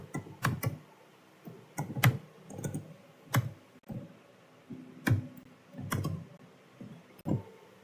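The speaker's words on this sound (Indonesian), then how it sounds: "kita ketik" Keystrokes on a computer keyboard as a network configuration command is typed, a series of separate clicks in small bursts with short pauses, close and fairly quiet, with no talking.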